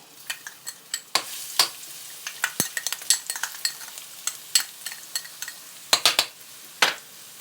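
Minced garlic sizzles and fries in hot vegetable oil in a pan, with steady crackling and repeated sharp scrapes of a utensil stirring against the pan, close and clear.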